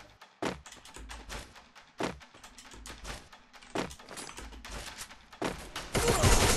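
Repeated shots from a shield gun in a solo-versus-squad battle royale match, sharp broadband cracks at uneven intervals of about a second with dull thumps, ending in a loud sustained burst.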